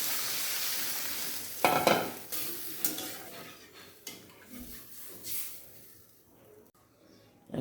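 Spices fried together with ground coconut paste in a pan, a soft sizzle under repeated close scraping stirs of a spatula, the frying fading quieter toward the end.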